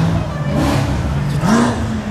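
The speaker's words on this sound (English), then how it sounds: "That was a burnout, that was a wheel spin." Loud, rising engine revving with a rough, gritty roar from a car doing a burnout with wheel spin nearby; pitch sweeps up and down.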